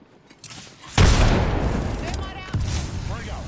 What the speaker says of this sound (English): Chucking a frag.